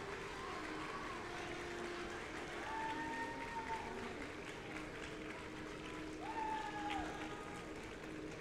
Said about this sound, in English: Louder applause, please.